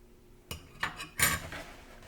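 A fork mixing cheese into bread dough in a bowl, giving three quick clinks and scrapes against the bowl in close succession, near and fairly crisp.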